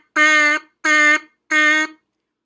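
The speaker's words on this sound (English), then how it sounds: "We're going to put space between them by saying the word to while we're buzzing." A trumpet mouthpiece buzzed alone in three separate tongued notes of equal length, each with a clean start and stop and short silences between, close and fairly loud.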